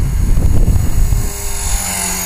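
An EXI450 RC helicopter controlled by a Spektrum DX6i gives a loud, close whirring buzz of motor and rotor that wavers, then settles to a steady high whine.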